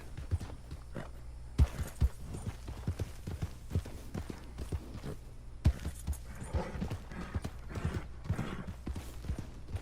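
Horse hooves in Red Dead Redemption 2 clip-clopping at a steady walking pace, a continuous series of close hoof strikes over a soft outdoor ambience, with no talk.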